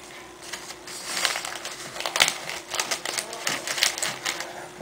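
Adhesive tape being pulled off and pressed onto Xbox 360 triggers, with crinkly ripping and tapping bursts coming in close, uneven clusters against a steady background hum.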